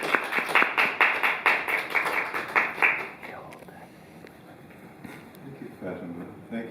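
An audience claps together at an academic talk hosted by a Center for Middle Eastern Studies. The dense, steady applause lasts about three seconds, then fades into quiet room murmur.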